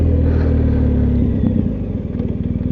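A shaft-driven BMW R 1250 GS motorcycle being ridden, a loud steady engine rumble close by that shifts into a pulsing, throbbing beat near the end, with no talking.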